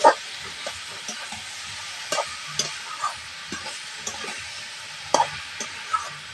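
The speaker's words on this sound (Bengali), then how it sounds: "এবার আগে থাকতে সেদ্ধ করা মশলাকে এর মধ্যে দিয়ে দেবো ভালো করে নাড়াচাড়া দিয়ে নেবো" A spice mixture being stirred in a frying pan for a vegetarian banana-flower dish, a soft sizzle under spaced scraping taps from the spoon against the pan, close and fairly quiet.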